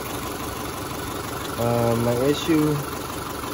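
A 1999 Subaru Forester with an EJ25 engine and a replaced head gasket, idling steadily with a mysterious noise, a low continuous hum and vibration heard beneath someone talking.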